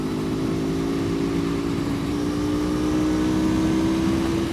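An Aprilia Tuono motorcycle rides along a road, its engine holding a steady, loud drone with a slowly shifting pitch under constant wind rush.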